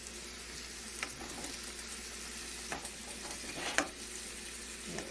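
Carrots frying in oil in a pan, a steady close sizzle with occasional scraping stirs and light clinks for several seconds, no talking.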